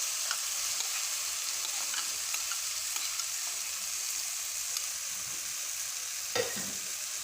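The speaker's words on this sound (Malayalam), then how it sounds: "നന്നായിട്ട് ഇളക്കി യോജിപ്പിക്കുക." Ground coconut paste made with mustard seeds and green chili is stirred into beetroot frying in a pan, giving a steady soft sizzle with faint scraping stirs and an occasional clack of the spoon, close and alone.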